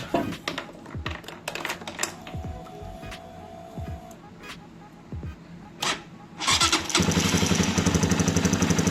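A Flash 150 motorcycle, its IACV fault just repaired, gets clicks and brief cranking attempts before the engine fires and settles into a loud, steady close-up idle.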